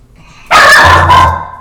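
A pet dog named Kona barks indoors: one loud, close bark that trails into a short whine, with no talking.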